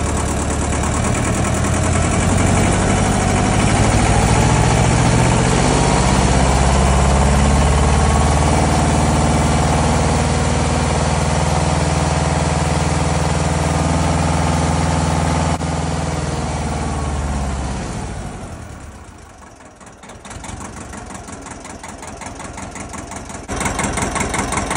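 A Ford 1700 compact tractor diesel engine idling close by, a loud steady low rumble that dips briefly in volume before settling back to an even idle.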